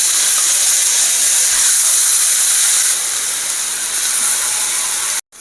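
Boiled horse gram and banana stem hit a hot pan with chilli powder for a mezhukkupuratti stir-fry, giving a loud, steady sizzling hiss that runs unbroken before cutting off abruptly near the end.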